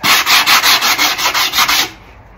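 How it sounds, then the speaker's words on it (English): Wooden edges are sanded lightly by hand with about ten quick, even back-and-forth rubbing strokes, close and crisp, before it stops abruptly. "I just need to lightly sand the edges so that I don't have any rough edges and splinters."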